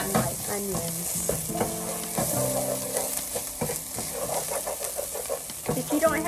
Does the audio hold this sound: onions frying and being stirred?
yes